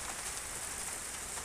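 Heavy rain pouring down at a rural home with goats, a steady dense hiss of drops hitting surfaces, close and continuous without any talk.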